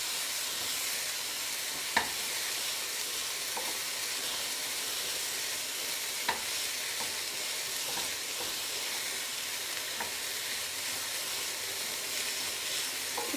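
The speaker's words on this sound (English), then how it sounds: "our leeks and onions are going to need a stir" Leeks and onions fry in a pan with a steady soft sizzle and hiss, broken by a few sharp clicks and scrapes as a utensil stirs them now and then; no voices.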